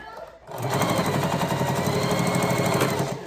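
A sewing machine runs a steady straight stitch while a ruffle sock is sewn, its rapid even needle chatter starting after a brief pause and holding loud and close for the rest of the stretch.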